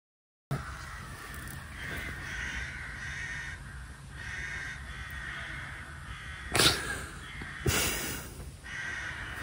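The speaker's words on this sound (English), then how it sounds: "there's gotta be like 30 crows out there" About thirty crows caw outdoors in Ireland at a moderate distance, harsh calls overlapping over a steady ambient hiss, with a couple of louder bursts near the end.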